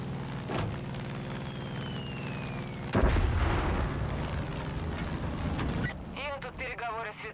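Bomb explosions from an air raid in Far Cry 5 land as a sudden heavy boom with a rumbling tail, followed by more distant rumbling. Game sounds and a voice are heard around it.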